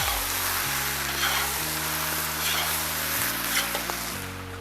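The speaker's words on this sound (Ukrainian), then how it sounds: "Тому продовжую смажити." Steady, close sizzling and crackling of chicken liver frying in hot oil in a pot, with a low tonal hum underneath and occasional soft stirring sounds.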